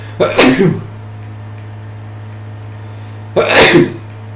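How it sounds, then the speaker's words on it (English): Two sharp sneezes, one near the start and another about three seconds later, separated by quiet over a steady low hum. "I've just been on the verge of sneezing"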